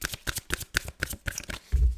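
Tarot cards being shuffled in a rapid run of crisp riffling bursts, close and fairly loud, ending in a soft thud as the deck settles.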